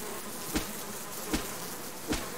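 A swarm of angry bees in the Subsistence survival video game buzzes in a dense, continuous drone, with three soft thuds spaced evenly through it and no speech.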